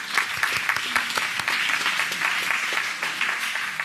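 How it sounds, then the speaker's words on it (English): Congregation at a Sabbath service clapping for a leader, a dense continuous round of applause filling the hall at steady loudness throughout. "Let's all clap for him."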